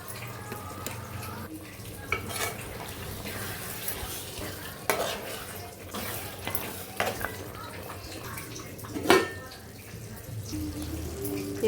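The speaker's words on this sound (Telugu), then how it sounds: "ఇప్పుడు వాటర్ వేస్తాం కదండి" Water poured into a pot of gongura chicken curry as it cooks, with a steady sizzling and bubbling wash, occasional clinks and scrapes of stirring, and faint background noise throughout.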